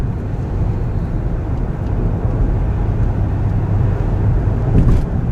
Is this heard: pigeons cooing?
no